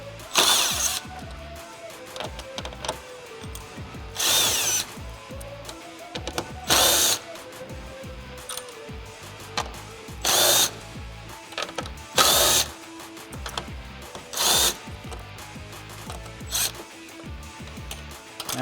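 Power tool bursts loosen the 8mm bolts along the top of a Mustang front bumper, short loud whirring runs repeated about seven times with quiet clicks and handling noises in between.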